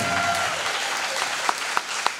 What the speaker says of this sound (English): Let's give her a huge round of applause once again.